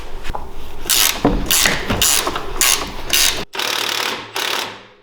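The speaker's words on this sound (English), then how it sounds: "Now we just take out the 4 bolts." A ratchet wrench removes 17 mm shock bolts on a Honda Talon, clicking in several loud, close bursts of rapid ratcheting separated by short pauses.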